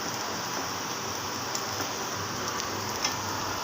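Chopped garlic frying in oil in a pan while a dried-fish (shutki) bhuna is cooked, giving a steady, dense crackling sizzle throughout with a few brighter pops and no talking.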